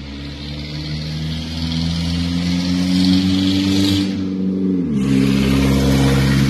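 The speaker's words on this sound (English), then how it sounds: "your car loud as hell, banging through them gears like that" A 2009 Chevy Impala engine roars loudly and close as it accelerates, its pitch rising steadily before a sharp drop at a gear change, then climbing again.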